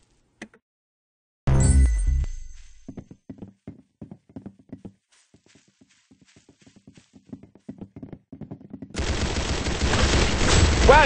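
Gunfire and impacts from the Roblox-style Arsenal shooter game: a loud burst opens, followed by a long string of quick clicking shots and hits, ending in a sustained dense roar of rapid fire and noise.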